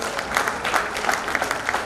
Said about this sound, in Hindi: I think she deserves a round of applause